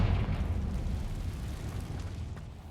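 Confringo fire spell exploding in Hogwarts Legacy, a deep booming burst that rolls off into a rumbling tail, loud at first and slowly fading.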